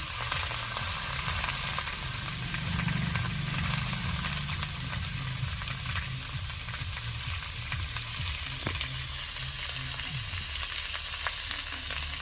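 Chillies sizzle and fry steadily in hot oil, a loud continuous crackle close by with faint stirring, while mutton kaliya is cooked in a village kitchen.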